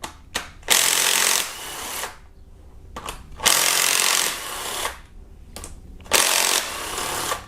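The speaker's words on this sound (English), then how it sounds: "So now we're going to start with the very left camshaft cap here with a 12mm socket that we're going to go ahead." Power tool on a 12mm socket running camshaft cap bolts out of a Kia Optima engine, three loud whirring bursts of about a second each with short clicks between them.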